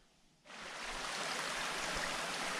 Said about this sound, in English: get ready to cross this stream